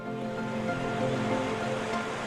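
Pailón del Diablo waterfall near Baños de Agua Santa, roughly 80 metres high, gives a steady dense roar of falling water, broad and unbroken for the whole span, with no voices.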